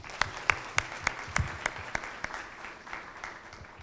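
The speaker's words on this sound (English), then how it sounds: "let's have a big round of applause for Anjali Choksi." An audience at an inaugural ceremony gives brief applause, with a dozen or so distinct, fairly regular claps that thin out and fade over a few seconds.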